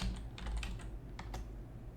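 A handful of quiet keystrokes tap out on a computer keyboard while entering a command in AutoCAD MEP, light clicks set against a low background hum.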